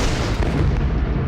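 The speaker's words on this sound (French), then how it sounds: "la ville est secouée par des explosions" Dense, continuous rumble of explosions and artillery-like blasts shaking the city of Hue at the start of the Tet Offensive, loud and sustained throughout with overlapping booms and crackling bursts.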